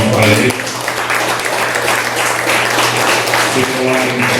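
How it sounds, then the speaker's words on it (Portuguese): A church congregation gives a strong round of applause during a Portuguese-language service, dense clapping filling the room after a brief voice at the start, with the speaker's voice returning near the end over a steady low hum. "Vamos dar uma forte salva de palmas para ele."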